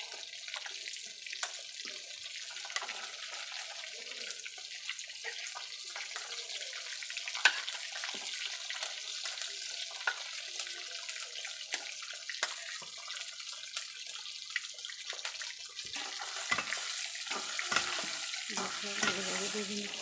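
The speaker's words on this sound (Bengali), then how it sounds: "ভালোভাবে ভেজে নিচ্ছি।" Tomatoes and onions fry in hot oil in a pan alongside a fish head, giving a steady close sizzle with stirring scrapes and a few clinks throughout, with no talk.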